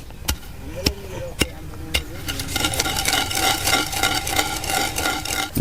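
Sharp pounding thuds ring out at a slow, uneven pace as horse gram chutney is coarsely crushed, then give way to quicker rhythmic grinding and tapping of stone pestle on stone, close and fairly loud.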